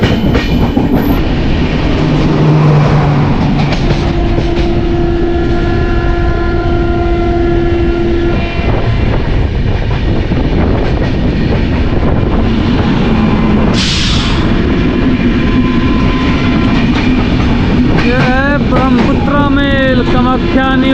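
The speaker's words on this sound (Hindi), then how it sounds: "तो यहाँ पर अपनी क्रॉसिंग हो रही है कटिहार पटना इंटरसिटी एक्सप्रेस के साथ।" Rajya Rani Express crosses the Katihar Patna Intercity Express, a loud, continuous roar of rolling wagons and rattling wheels close by, with a horn-like tone rising near the end.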